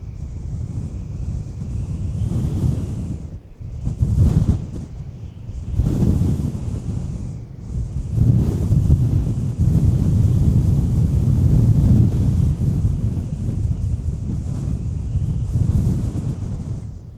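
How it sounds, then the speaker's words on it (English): Strong wind gusts batter the microphone on the Mississippi River during catfishing, a loud rumbling roar that surges and drops in waves over nearly twenty seconds. "That might have been a 40 mile an hour gust there."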